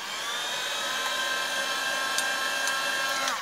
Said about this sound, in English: So I'm kind of drying where the trees are, not the roots.